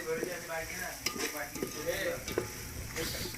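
Rooster chicken bones fry in a hot pan with a lively sizzle, broken by several sharp clinks and scrapes of stirring at close range.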